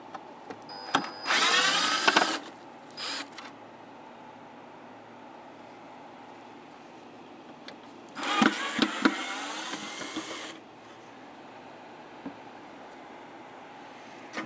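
Power drill backing Phillips screws out of a 1992-1996 Ford F-150 headlight bezel: two close whirring bursts, the first about two seconds and the second about three, separated by quiet handling noises.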